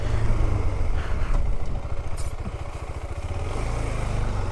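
A 2021 KTM Adventure 390 motorcycle is ridden off-road with the rider standing on the pegs, its engine droning steadily and close, with a brief throbbing dip in the middle, and no voices.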